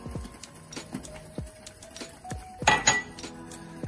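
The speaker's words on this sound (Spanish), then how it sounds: "Removemos constantemente como para que no se formen grumos." A spoon scrapes and knocks against a pot while gluten-free polenta is stirred constantly over the heat, giving a series of close metallic clinks and taps, with a louder cluster of clatter near the end.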